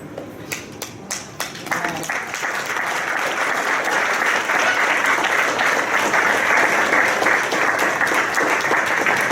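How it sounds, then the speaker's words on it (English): An audience at a fashion and award show breaks into applause, starting with a few scattered claps that quickly swell into dense, sustained clapping from a crowd close by. "let's give them a round of applause"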